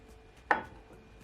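A single sharp knife chop through scotch bonnet pepper on a cutting board, one crisp close thud in an otherwise quiet kitchen.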